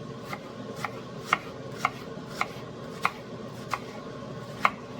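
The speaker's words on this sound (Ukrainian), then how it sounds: "І теж нарізаємо цибульку" A knife chops an onion steadily on a cutting board, sharp distinct taps roughly every half second over a quiet room hum, close by.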